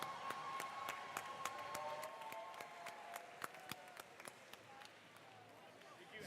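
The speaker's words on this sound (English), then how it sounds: "Let's give them a round of applause." Applause at a FIRST Robotics Competition district event in an arena: scattered, fairly faint clapping from a crowd that runs steadily throughout with distinct individual claps, while voices are also heard.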